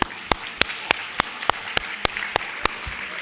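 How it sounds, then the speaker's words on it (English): A single pair of hands claps at an even, unhurried pace, about eleven crisp claps close to the microphone over a quiet room, at a conference applauding workshop facilitators. "A last applause for them"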